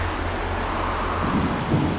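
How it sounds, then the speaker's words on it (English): Heavy hurricane rain pounds down in sheets during a nighttime storm nearing landfall, a dense continuous roar with deep low rumbling of thunder and wind beneath, swelling slightly toward the end. "Rain didn't fall anymore. It hammered, came down in sheets so thick the world looked blurred"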